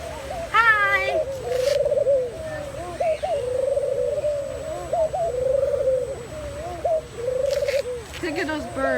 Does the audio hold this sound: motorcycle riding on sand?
no